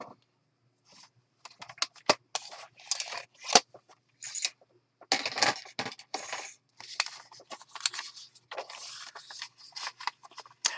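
Scissors snip and trim craft paper for a handmade faith-themed mini journal, a run of close, crisp cuts in irregular bursts with short pauses, alone without talk.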